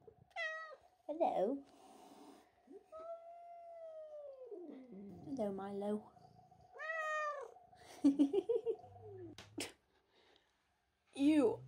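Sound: cat meowing

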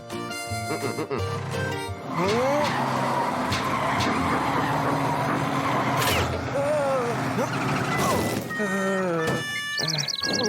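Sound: truck engine running rough

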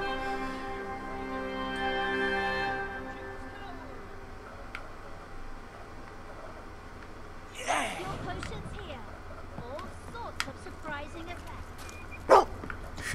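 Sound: dog barking in video game Fable 2

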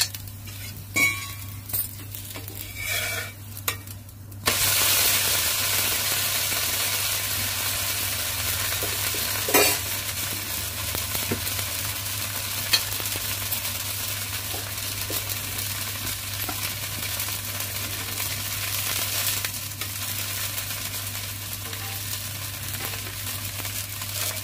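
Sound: ragi dosa sizzling after oil is poured on it

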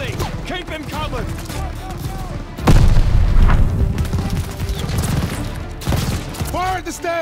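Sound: machine gun fire in Call of Duty Vanguard video game

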